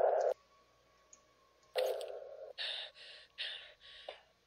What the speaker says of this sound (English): That was my breathing.